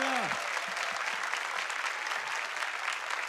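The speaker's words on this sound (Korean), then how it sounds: "우리 주님께 감사와 영광의 박수 올려드리겠습니다." A church congregation at an Easter Sunday worship service claps together in steady, dense applause that fills the room, with a faint voice or tone at the very start.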